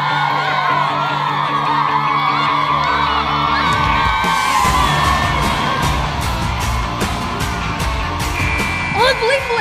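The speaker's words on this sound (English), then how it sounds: "The crowd is going wild." A crowd cheers wildly at a game-winning play, with whoops, yells and shouting voices rising into loud, sustained excitement amid close, dense noise.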